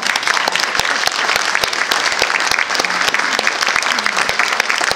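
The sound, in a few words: audience applause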